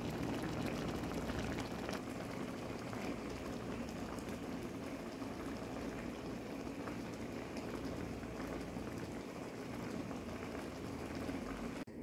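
Fish sarciado, sarciadong isda, simmering in a pot, a steady, dense bubbling and popping that stays even and close throughout with no talking over it.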